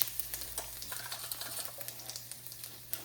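Asafoetida, mustard seeds and cumin sizzle in a small amount of hot oil for a dosa tempering, a steady close crackle with small popping ticks and faint stirring, no voices.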